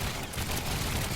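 Rapid, dense gunfire from a P-61 Black Widow fighter's four guns in the building game Trailmakers, a steady loud fusillade lasting the whole moment with no talk over it.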